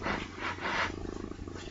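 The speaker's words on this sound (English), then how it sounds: "Yes, I don't know if you can hear my cat purring." A pet cat purrs close by in a quiet indoor room, a soft, low, continuous rumble lasting under two seconds.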